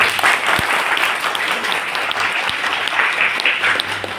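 Loud, dense applause from an audience at a BHGF Wellness seminar, a steady unbroken roar of many hands clapping that lasts the whole stretch with no talk over it.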